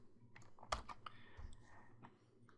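Someone types on a computer keyboard while entering an SQL insert statement, producing soft, irregular clusters of close keystroke clicks at a low level.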